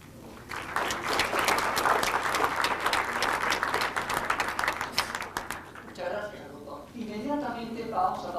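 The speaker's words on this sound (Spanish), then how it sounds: "aplauso a los señores invitados a Ibrahim, coordinador de este tercer bloque" Sustained audience applause at an international scientific meeting, loud clapping for several seconds before fading as a voice begins announcing over the room.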